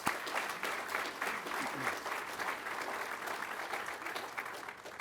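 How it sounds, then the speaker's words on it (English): An audience at an undergraduate pilot training graduation ceremony gives a sustained round of applause for instructor pilots. The clapping is steady and moderately loud throughout. "a round of applause for instructor pilots"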